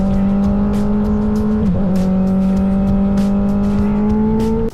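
A motorcycle engine hums steadily at cruising speed, close and loud, with a brief dip in pitch midway before settling back into a constant drone.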